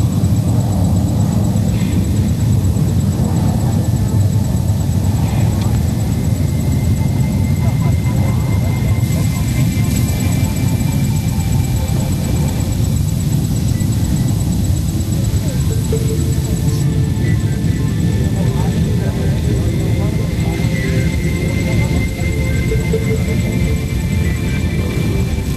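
AN-32 military transport aircraft flying during a paradrop at an air force firepower demonstration, its propeller engines giving a loud, continuous drone with a narrator talking over it throughout.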